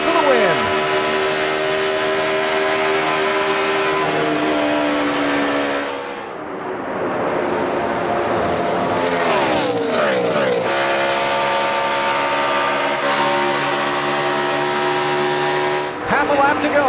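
NASCAR stock cars roar past on the final lap at Michigan Speedway, engine whines sweeping up and down as packs pass close, loud and continuous with a race commentator talking over them.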